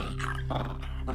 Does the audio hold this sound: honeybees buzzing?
no